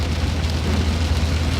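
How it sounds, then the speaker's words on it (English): Steady rain falling, a dense, loud, even patter with no voices. "And God, it's raining."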